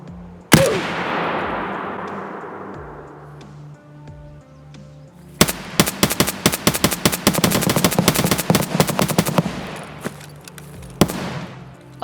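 In the video game Escape from Tarkov, a single loud gunshot rings out, then after a pause a dense barrage of rapid automatic fire crackles for several seconds, followed by a couple of late shots.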